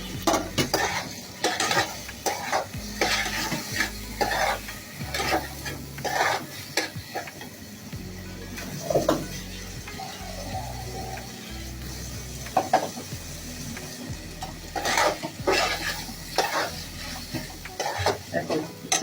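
Beef skin stir-fried in oil, a home Bengali dish later cooked with eggplant: steady close sizzle with repeated scraping and clanking of a spatula against the pan, some stirring strokes louder than others.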